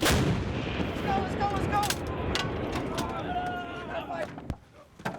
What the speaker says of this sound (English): these US artillery units are exercising with their 155mm howitzers in deepest Finland